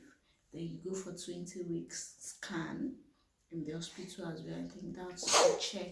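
A short sneeze bursts out near the end, loud and close, while someone talks steadily about prenatal hospital scans.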